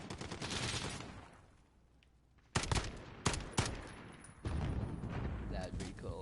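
FAL rifle fire in Call of Duty: Modern Warfare: loud, close bursts of sharp shots crack out after a quieter lull, then a sustained stretch of firing follows.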